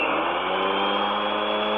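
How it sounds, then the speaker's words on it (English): A household vacuum cleaner runs with a constant, loud whirring drone that holds steady throughout, with no voices over it. "That's my vacuum cleaner."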